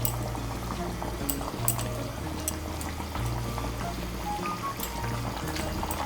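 Vegetarian banana-flower kopta curry simmers in a pan over raised heat, giving soft, continuous bubbling and faint sputtering that stay quiet and steady throughout.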